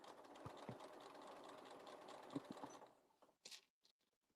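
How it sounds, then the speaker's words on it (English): Sewing machine stitching a reusable fabric gift bow, steady mechanical whirring with faint knocking for about three seconds, then a few short bursts and quiet gaps. "it's easier if you sew it from the back"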